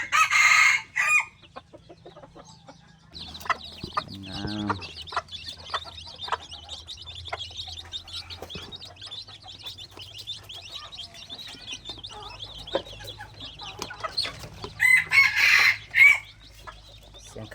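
A rooster crows several times, loud and close, in long drawn calls, with softer clucks and bird chirps between them and a brief word or two spoken.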